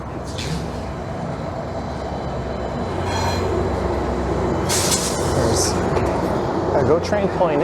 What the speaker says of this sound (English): A GO train pulling into Union.